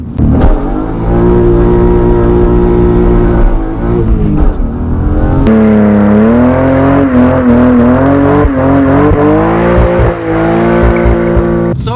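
BMW E36 M3 straight-six revving hard in a sustained loud howl as the rear tires break loose, pitch rising and wavering through the launch, with tire noise underneath, no talking.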